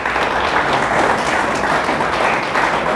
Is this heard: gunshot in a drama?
no